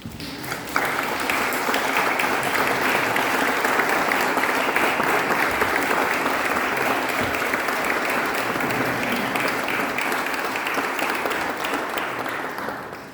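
A church congregation applauds after a solemn mass marking the arrival of relics, a long, dense, steady wash of clapping that fills the space and fades slightly at the end.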